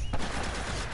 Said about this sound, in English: Get on the gun